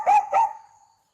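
An AI-generated dog gives two quick, loud barks in a row, and a thin ringing tail fades into silence.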